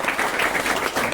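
Loud applause from an audience at a motivational talk, dense and sustained clapping at close range from start to finish.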